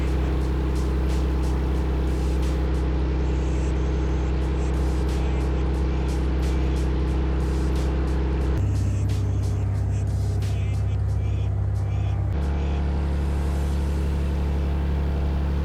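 A 1963 Beechcraft Bonanza P35 piston engine drones steadily while taxiing, a loud, constant low hum whose pitch shifts partway through, with no talk over it.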